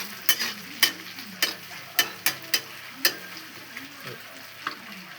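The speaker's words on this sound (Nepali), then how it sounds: "यो प्याज पाक्दैछ।" Onion frying in a pan while being stirred, a soft continuous sizzle broken by sharp, irregular scraping clicks of the spoon against the pan, close and alone.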